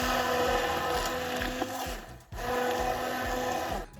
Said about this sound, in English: She uses a hand blender.